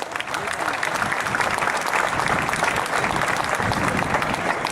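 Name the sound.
loud auditorium audience applause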